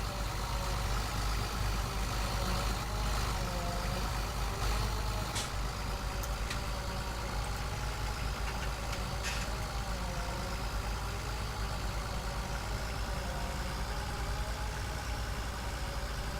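A tractor engine idles in Farming Simulator 2017, a continuous low, steady rumble with a few faint clicks, no talking.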